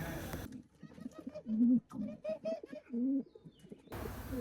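Pigeons sitting on eggs in rooftop nests give soft, low coos in several short bursts, close and fairly quiet, with faint background noise at the start and end.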